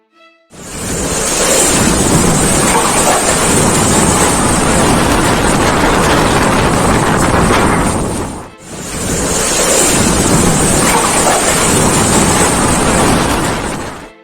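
Strong tornado winds roaring through a village in Demak, Central Java, with heavy rain, a loud continuous rushing broadband blast that runs steadily, dips briefly midway, then returns just as strong.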